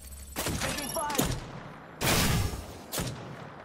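Bursts of video game gunfire in a shooter, several sharp volleys with gaps between them, loud and close over a busy background of game noise.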